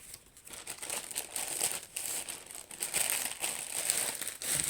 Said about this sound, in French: Je suis désolée pour le bruit de plastique